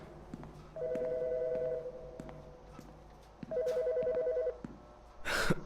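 A telephone rings in the Autopsy Simulator video game, with two long electronic trills separated by a pause and soft background noise between them.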